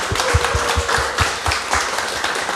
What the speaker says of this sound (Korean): 우리 김신영 사장님께 다시 한번 큰 박수 부탁드릴게요